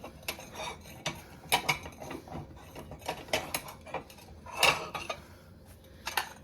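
Ceramic salad plates and dishes from a hutch being handled, with a string of sharp clinks and clatters as pieces touch, stacked close by at an uneven pace, one louder knock near the middle and no talking.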